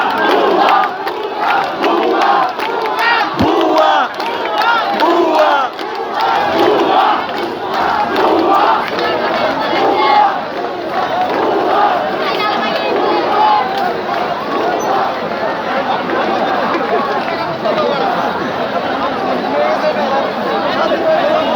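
Large crowd chanting and shouting in a street celebration procession in Bangladesh, marching from Mawna to Bagher Bazar after the prime minister's resignation; loud, rhythmic group chants and cries roll on continuously amid general hubbub.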